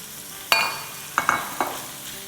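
Mutton mince sautéing on a high flame, heard as a few separate stirring scrapes and brief sizzle bursts over a quiet background, with no talking.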